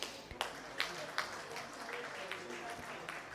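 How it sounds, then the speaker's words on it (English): Audience applause for award winners at the LAFCAN 2023 ceremony, faint and distant, a steady patter with a few sharper claps standing out, no voices over it. "Let's have an applause, everyone."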